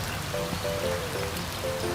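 Steady rain falls outdoors in a garden, a continuous dense patter of drops on surfaces with a few faint bird-like chirps over it.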